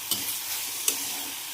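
Tomato, carrot and cashew get stirred and sautéed in a pan: a short steady sizzle broken by two sharp spatula scrapes, close and clear with no voices.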